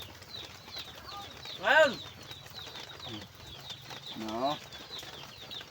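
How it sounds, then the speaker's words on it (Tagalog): Pigeons or doves coo and call nearby in an outdoor setting, with a few louder bursts and possible wing flaps. Short shouts from a person break in. "ganito yung mga ibon dito na mga idol"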